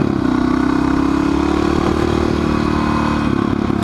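A supermoto motorcycle engine drones steadily and loudly at a constant pitch while riding back roads, with road and wind noise filling the background.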